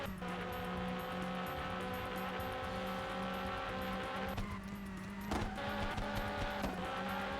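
Race car engine in Test Drive Le Mans on PS1, holding a steady high-rev drone with a brief sharp burst partway through, heard continuously and alone.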